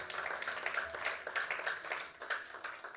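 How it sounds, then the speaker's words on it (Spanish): A church congregation claps together in a steady wash of applause, heard at a moderate distance and fairly faint, with no break across the short stretch. "Denle un aplauso al Señor por esta palabra que recibimos"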